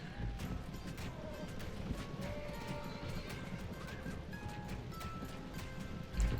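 Horse archers in Rome Total War battle, a steady rumble of many galloping hooves with occasional whinnies, mixed into distant battlefield clamour.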